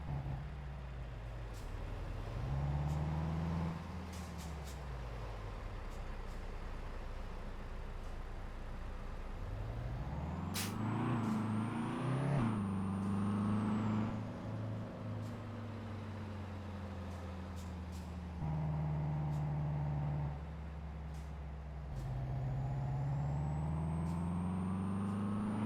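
Heavy truck in a video game convoy, its engine drone rising and falling with gear changes, then easing under repeated light brake taps with short air-brake hisses, close and steady with no talk.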